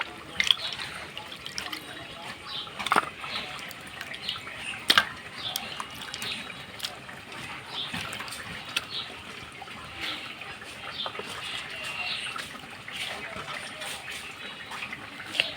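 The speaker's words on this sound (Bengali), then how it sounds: "এই যে বন্ধুরা এখন একটু ধুয়ে পরিষ্কার করে নিচ্ছি আমি মাংসগুলো" Raw meat being washed by hand, with irregular water splashing and trickling, soft sloshes and a few louder knocks throughout.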